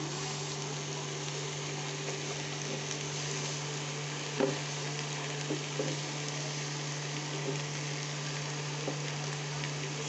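Bitter gourd simmers and fries in a pan after a splash of water, a faint, steady low sizzle with occasional soft stirring clicks over a constant background hum.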